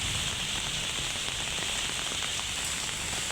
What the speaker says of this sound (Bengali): আর এখানে অনেক বাতাস, বৃষ্টি হচ্ছে।